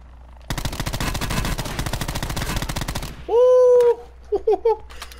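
Rapid automatic gunfire in a Call of Duty Blackout match rattles loudly for about three seconds, followed by short electronic game sounds and a brief voice.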